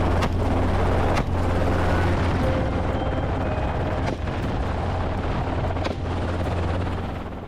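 A helicopter flies during a wild boar hunt, its rotor and turbine roaring loud and close in a continuous thrum, broken by a few sharp cracks like shots, with no talk.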